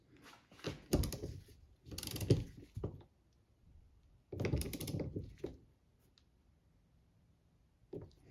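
Rear wiper arm nut on a 2021-2026 Toyota Sienna being tightened by hand with a ratchet, heard as several short bursts of clicking and mechanical rattling separated by pauses, fairly close and alone.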